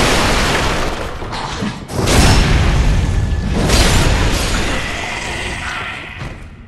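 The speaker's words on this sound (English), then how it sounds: "Ah, just a firebomb." A loud, sustained roaring blast from a firebomb in Dark Souls III, with a heavy boom that swells after a brief dip and slowly fades, rumbling and close.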